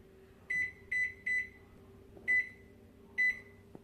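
An oven's control panel beeps as it is set and started for baking a chocolate cake: five short electronic tones, three in quick succession then two spaced apart, over a faint steady hum.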